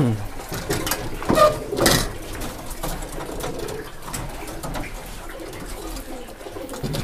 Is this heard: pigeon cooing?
yes